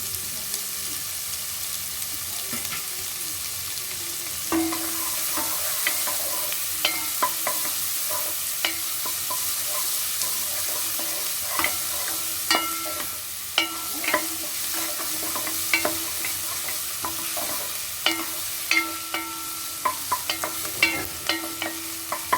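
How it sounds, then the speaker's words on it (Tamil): Finely chopped onions sautéing in hot oil for a kachori filling, a constant bright sizzle with repeated close spatula scrapes and taps, growing more frequent toward the end, no talking. "எண்ணெய் காஞ்சிச்சு. வெங்காயம் பொடியை கட் பண்ணி வச்சுருக்கேன், அதை சேர்த்துக்கிறேன்"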